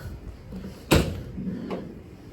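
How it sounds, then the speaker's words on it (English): A 2024 Nissan Primastar Acenta L2H1 D110 long-wheelbase van has its sliding side door opened: one sharp, close clunk, followed a moment later by a fainter click over a quiet background. "We open this door."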